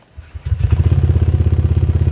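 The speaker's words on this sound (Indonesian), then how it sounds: "kontak on dan motor siap dinyalakan" A Honda Vario 125 scooter fitted with a keyless ignition starts up after a brief starter whir, its engine settling into a steady, close, rhythmic idle pulse.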